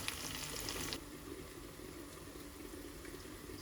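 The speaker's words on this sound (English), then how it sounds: "until we're sure that the paste has cooked and fried to the right level" Tomato paste for Nigerian jollof rice frying in a pot, a steady soft sizzle and bubbling hiss that is louder for the first second, then settles into a quieter continuous crackle with no talking.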